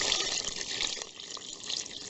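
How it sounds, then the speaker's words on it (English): Water gushes and splashes steadily into the tub of a Wonder Washer portable washing machine, a continuous close rushing pour lasting a couple of seconds. "So I actually can put a little more water that's left in here."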